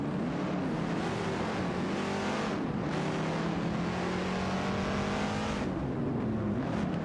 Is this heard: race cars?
yes